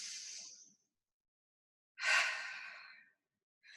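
Two slow, airy breaths drawn and released during an exercise class focused on resistance work, the second deeper and longer, with quiet stillness between them and no talking.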